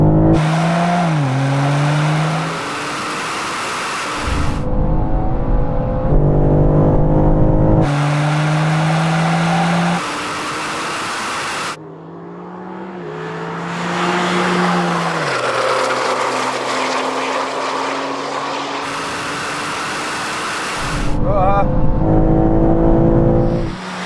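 Manhart-tuned BMW M3 and M2 cars accelerate hard in a drag race with wheel spin, giving loud, close engine roars that climb and drop repeatedly through gear changes, with no voices.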